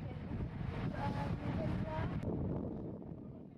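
Wind rushes steadily across a sailboat running dead downwind in a 13-knot true breeze, with broadband gusty noise that fades a little toward the end and a brief sharp tick partway through.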